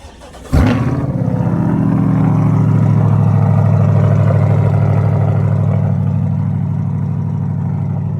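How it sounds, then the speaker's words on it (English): A Chevrolet C8 Corvette fitted with a Procharger supercharger fires up from cold: a sharp starter catch, then a loud, steady high idle that settles into a deep, even rumble and holds close by for several seconds. "give me a cold start"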